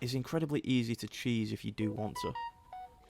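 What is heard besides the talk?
mobile phone going off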